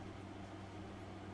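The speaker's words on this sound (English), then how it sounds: "if you hear the noise in the background, that'd be my air conditioner" A home air conditioner hums steadily and faintly in the background of a hobby room on a hot, humid day, giving a constant low drone with a soft hiss on top and no other sound.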